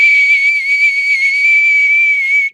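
A loud, piercing whistle holds one steady, slightly wavering tone for about two and a half seconds before cutting off abruptly, with no voices.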